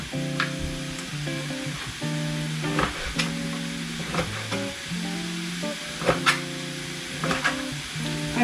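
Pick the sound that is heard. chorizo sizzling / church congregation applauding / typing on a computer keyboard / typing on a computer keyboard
chorizo sizzling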